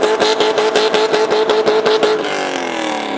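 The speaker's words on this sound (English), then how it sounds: "It's either the tires or she just blew the engine on that hunk of shit." A worn-out car's engine revs hard in rapid pulsing bursts, loud and close, then suddenly cuts to a fading whine as if the engine or tires gave out.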